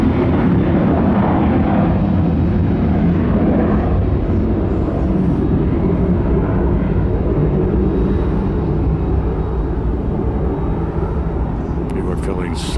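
A Southwest Airlines jet airliner flies overhead near Tampa airport, a loud, steady, broadband roar that fills the whole stretch without letting up.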